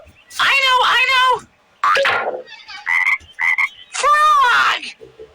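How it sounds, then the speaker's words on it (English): A cartoon-style frog croak from a children's surprise-egg toy show, heard as a few loud, close croaking bursts separated by short gaps, with brief higher chirpy sounds in between. "Frog!"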